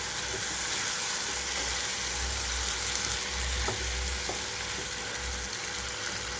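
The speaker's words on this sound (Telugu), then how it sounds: "మూత పెట్టేసి ఐదు నిమిషాల పాటు లో ఫ్లేమ్లో వేయించుకుంటున్నాను" Chicken frying in a pan with fresh ginger garlic paste over low flame, a steady dense sizzle with a few faint stirring knocks, continuous and fairly quiet.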